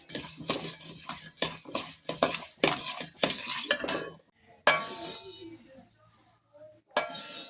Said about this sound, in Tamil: நல்லா லோ ஃப்ளேமில் வச்சு வறுக்கணும்